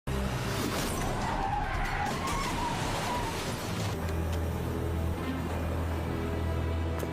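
Car skidding with loud, continuous tire noise and a dense roar that shifts into a low rumble partway through, suggesting impact with a road barrier in a dramatic chase scene; no speech.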